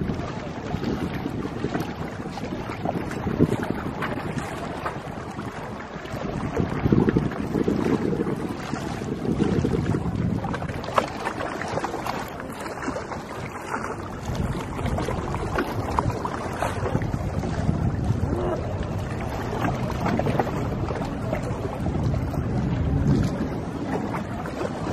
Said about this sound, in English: It's kind of windy right now to swim, right?